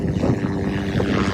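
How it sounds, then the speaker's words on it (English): A helicopter flying overhead in Los Angeles, a loud, close, steady rotor and engine drone with a rough low rumble throughout. "helicopter."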